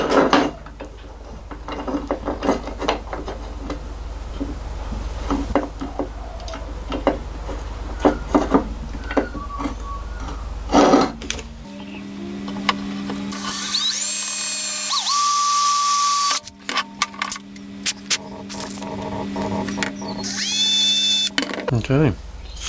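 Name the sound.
drilling a 2mm hole through a diesel injector return fitting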